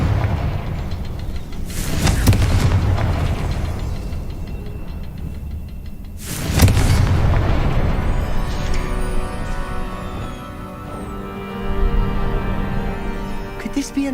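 Confringo fire spell blasts in Hogwarts Legacy, two loud booming bursts a few seconds apart, each rumbling out into a lower roar, with a softer swell near the end and no talking.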